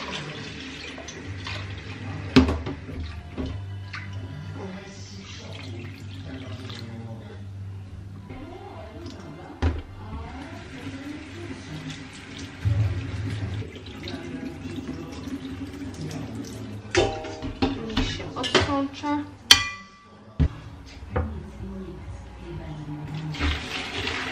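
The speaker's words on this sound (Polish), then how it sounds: "Przelewacie też zimną wodą, bo ja przelewam." Cold tap water pours over freshly cooked pasta in a kitchen, running unevenly for a long stretch amid clatter of cookware, with a voice talking intermittently.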